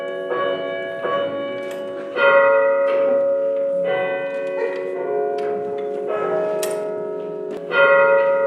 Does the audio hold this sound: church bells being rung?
yes